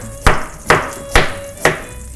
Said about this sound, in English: We just cut your vegetable canvas rustically. So take some rounds of